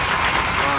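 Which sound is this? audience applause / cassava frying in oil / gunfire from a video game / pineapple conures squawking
audience applause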